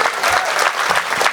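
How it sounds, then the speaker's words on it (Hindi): An audience at a kavi sammelan poetry gathering applauds steadily and loudly, dense clapping filling the whole moment without letup. "इसलिए मैं खड़ा हुआ हूं तो एक बार मेरे सम्मान में भी ताली बजाइए"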